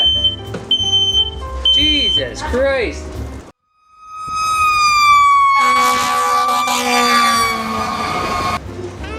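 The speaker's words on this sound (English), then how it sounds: "Apparently the smoke detector doesn't like when you add chicken broth to your gumbo." Kitchen smoke detector set off while cooking New Orleans gumbo with chicken broth, sharp repeated electronic beeping, then after a brief gap a loud sustained shrill alarm tone; a man exclaims over it.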